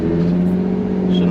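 Turbocharged Z car engine with an idle problem, running with a steady low droning hum and faint whir, loud and close for a second or so.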